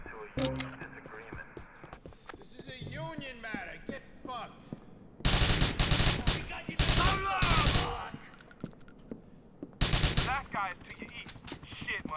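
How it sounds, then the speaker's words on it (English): Rapid bursts of automatic gunfire fired by construction site workers in Grand Theft Auto IV crackle loudly in several volleys, with game sounds and a voice talking between them. "What the fuck construction site workers shooting at me?"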